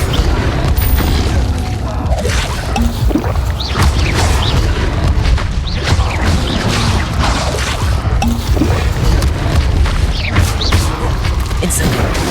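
Repeated fiery bursts of the Incendio spell in Hogwarts Legacy, loud whooshing blasts and booms cast again and again in quick succession amid other spell effects.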